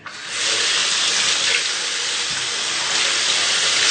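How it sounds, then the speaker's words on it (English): A sink tap runs warm water over paint brushes to soak them, a loud steady rushing splash that starts abruptly and continues alone without talk. "I just turn on the sink, and this is going to make some noise"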